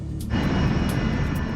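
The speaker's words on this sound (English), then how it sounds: "a United States Air Force cargo plane is coming in for a landing" A United States Air Force cargo jet comes in to land, a loud, steady engine roar that swells in after a brief quieter moment and holds close and unbroken, with no voices.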